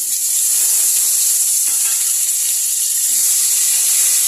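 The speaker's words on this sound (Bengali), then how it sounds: "আর এই মাছের তেলের মধ্যে আমি এই আলুগুলো ভেজে নেব" Potatoes frying in leftover oil from fried fish give a loud, steady, close-up hiss that stays continuous without pause.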